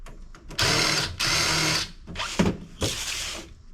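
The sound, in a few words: Phillips screwdriver removing screws from telecom modules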